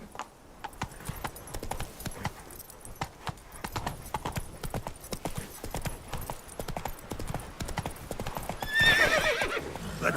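Roach, the horse in Witcher 3: Blood and Wine, trots with steady clip-clopping hooves throughout, close and clear, and a brief whinny and louder rustle come near the end.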